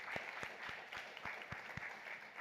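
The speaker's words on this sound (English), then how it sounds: "under your applause for Shenese" Audience applause at the SIGEF conference after an introduction, a steady wash of clapping with sharper individual claps standing out, moderately distant and filling the moment without speech.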